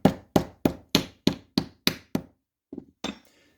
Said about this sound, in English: I can give that some taps